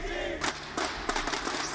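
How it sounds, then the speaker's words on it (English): An esports crowd cheering at a Rainbow Six Siege US Nationals 2018 finals match, Evil Geniuses against Cloud9 on the Bank map: a roaring arena crowd with repeated surges of shouts and cheers, loud and sustained. "The crowd getting into it"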